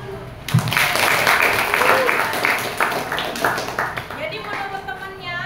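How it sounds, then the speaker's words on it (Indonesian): A classroom group claps in a broad, dense wash of applause that starts abruptly and carries on steadily, thinning slightly toward the end, with a voice or two faintly mixed in. "Oke, kasih aplaus dulu."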